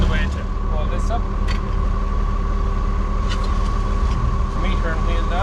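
A Massey Ferguson 2725 tractor engine runs with a steady low rumble and drone as it pulls out of a shed, continuous and fairly loud, with a voice talking over it.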